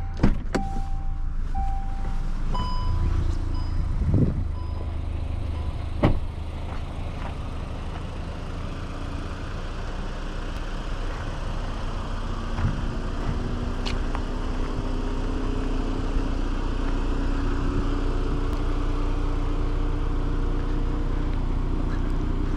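A 2024 VW Golf R with a 10-speed automatic starts with brief electric whirs and clicks, then settles into a steady low idle rumble from inside the car.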